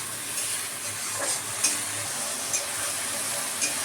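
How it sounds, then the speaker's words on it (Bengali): Spice paste of chili, turmeric and coriander powders cooking with chicken mince in a pan, a steady hiss of frying under occasional spoon scrapes and clacks, moderately loud and without talk. "দিয়ে সব একসাথে কষে নেব।"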